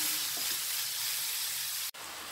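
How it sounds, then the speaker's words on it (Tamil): Pumpkin halwa being stirred in a pan gives a steady, dense sizzle and hiss throughout, with a brief dip near the end, and no voices. "நல்லா கிளறி விட்டுருவோம்."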